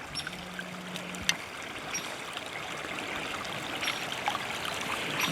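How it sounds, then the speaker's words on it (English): Snowmelt runs off a soft hillside after a late-season snowstorm, a steady trickling stream close by that stays fairly quiet and even, with a brief knock partway through. "you can see the water is running like crazy"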